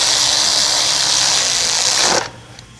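Power tool running hard to snug down starter bolts on a Chevy Silverado, a loud high whir close by for about two seconds that stops abruptly.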